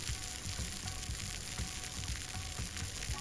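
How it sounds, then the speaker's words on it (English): Video-game burger patty cooking on a grill, a steady soft sizzle and crackle running throughout at low volume with no talking over it. "Listen to that sizzle"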